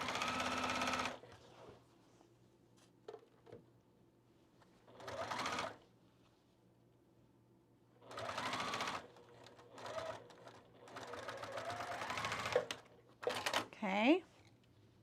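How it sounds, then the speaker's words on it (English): A sewing machine stitches a pant seam joining the front slant pocket lining to the front pant panel of overalls, running in several separate bursts of a few seconds each with quiet pauses between and brief talk. "stitch along this at that 1/2 inch seam allowance"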